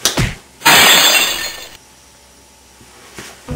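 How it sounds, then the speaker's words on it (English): A fist punches through glass as a sound effect: a dull impact followed by a loud, bright shattering burst that crashes for about a second, then trailing tinkles of falling shards. "There's a guy punching glass."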